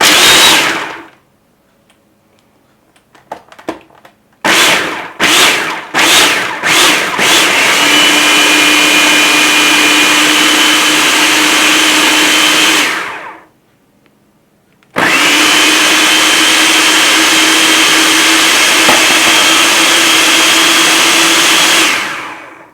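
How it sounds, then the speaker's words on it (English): A kitchen grinder grinds besan ladoo ingredients toward a coarse, sandy texture. It starts with several short pulses, then roars loudly and continuously, stops briefly, and runs hard again, very close. "I'm going to grind this up until it gets coarse like sand."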